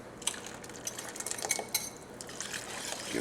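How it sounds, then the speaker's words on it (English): A utensil clinks and scrapes around a pot as pot roast drippings and a gravy mixture are stirred, with light liquid sloshing throughout, moderately close. "Give that a stir"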